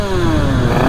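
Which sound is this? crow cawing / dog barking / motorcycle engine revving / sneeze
motorcycle engine revving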